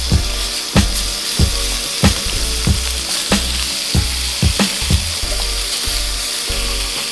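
Lamb chops sizzle loudly in a hot pan just after being flipped, a steady close frying hiss broken by repeated sharp clanks and scrapes of a utensil against the pan.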